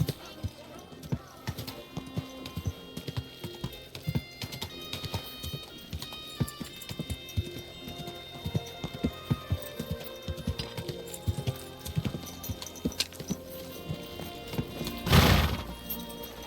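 Horse hooves clip-clopping in Kingdom Come Deliverance 2, a steady run of hard footfalls with scattered voices talking over them, ending in a loud, rising whinny near the close.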